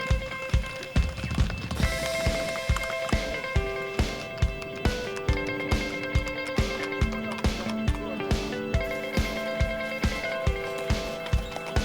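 Hooves of a trotting sulky racing horse in Ireland beat a quick, steady clip-clop rhythm throughout, close and distinct, under a layer of tonal music.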